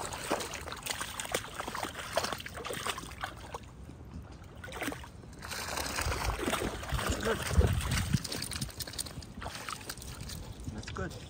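An animal swimming and splashing through water, giving continuous sloshing and trickling with uneven bursts, under frequent nearby talking.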